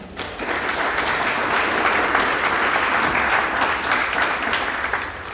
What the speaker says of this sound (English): Please give a round of applause for Yaniv.